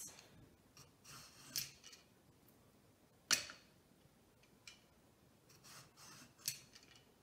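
A regular hand peeler draws along a zucchini to cut thin strips, making soft, scattered scraping strokes and a few sharp clicks, close and quiet, with no talk.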